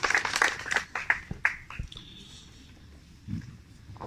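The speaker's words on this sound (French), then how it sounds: "Maryse, on peut l'applaudir." Applause for a woman at a brie de Meaux brotherhood induction ceremony, a short burst of clapping over the first couple of seconds that fades into quiet room noise with a faint whistle-like tone.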